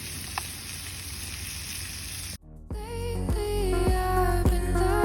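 Steak sizzling over a beach campfire, a steady frying hiss, then after a brief gap a louder sizzle with rhythmic clinks and taps.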